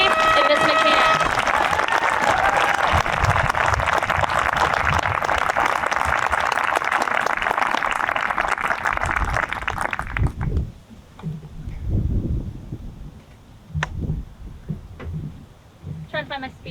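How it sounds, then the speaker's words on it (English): Audience applause at a high school tech graduation ceremony, a dense sustained clapping for about ten seconds that then drops away into scattered claps, shuffling and room noise. "Can I please have a large round of applause for both Ms. Opry and Ms. McCann?"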